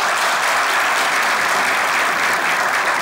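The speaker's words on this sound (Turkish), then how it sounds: "Değildi diyenler alkışlasın." Studio audience at a Turkish comedy sketch show applauds in a steady, dense roar of clapping that holds at full strength without a break, with no talk over it.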